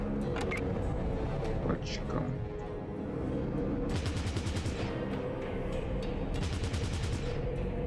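Machine gun fire in Fallout Tactics, two sustained rapid bursts of evenly spaced shots amid battle noise, with someone talking throughout.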